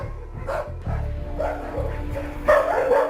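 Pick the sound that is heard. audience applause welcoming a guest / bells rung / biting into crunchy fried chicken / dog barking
dog barking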